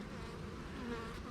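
Steady, dense humming drone of many honeybees buzzing together at the hive in early spring, close and continuous, with no voices.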